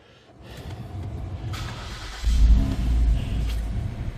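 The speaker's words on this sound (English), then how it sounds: "we're going to go ahead and start the car" A Ford Edge engine cranks and turns over, rising into a low steady idle rumble with a brief louder surge, heard close by.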